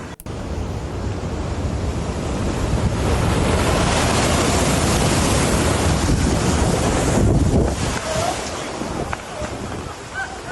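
High sea waves whipped up by Storm Kirk pound the Portuguese coast in a loud, continuous roar of surf, with heavy wind buffeting the microphone throughout.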